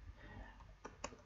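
Two faint, sharp computer mouse clicks sound close together near the end of a quiet stretch of soft background noise.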